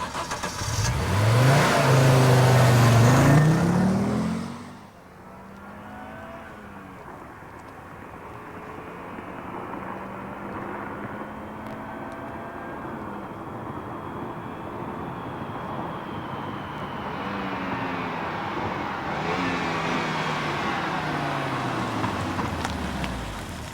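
Audi 200 Turbo engine running on after switch-off, with the cooling pump and radiator fan working: a steady mid-range hum and whir, fairly close, following a louder burst at the start, with no talk.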